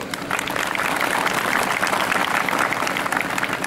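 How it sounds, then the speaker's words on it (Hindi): A village gathering in Balrampur, Uttar Pradesh, honouring Tharu women, applauds a visiting guest with loud, dense, continuous clapping from a sizable crowd, steady throughout. "जोरदार तालियों से उनका स्वागत करिए सभी लोग"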